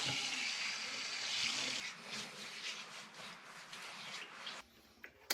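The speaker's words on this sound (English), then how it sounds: "I'm gonna go ahead and rinse off" Running water rinsing shaving lather off, a steady splashing rush that thins out and stops near the end, followed by a few faint clicks.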